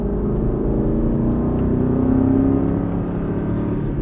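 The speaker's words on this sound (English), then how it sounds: "and back on the throttle, hard coming out" A race car pulls hard out of a turn with a steady loud engine drone, its pitch rising gradually as the throttle is held open, continuous and close throughout.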